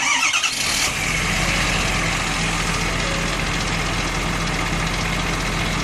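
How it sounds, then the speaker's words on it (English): A truck engine cranks briefly and catches, then settles into a steady, loud idle close by with a low continuous rumble. "we're going to actually start the truck"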